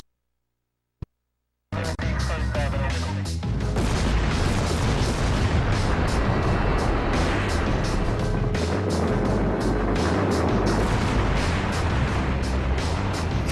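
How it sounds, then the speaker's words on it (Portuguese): Dynamite charges blast at the canal of the Itaipu hydroelectric dam on the Paraná River, a sharp crack followed by a massive, sustained roaring rumble of debris and rushing water that stays loud to the end. "Cargas de dinamite são colocadas nas 2 extremidades do canal."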